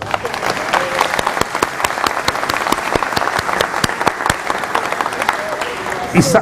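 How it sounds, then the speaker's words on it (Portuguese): Dense, steady applause from a lecture audience, many hands clapping close by, sustained throughout, with a brief murmur of voices near the end. "Aliás, vou dar salva de palmas para você."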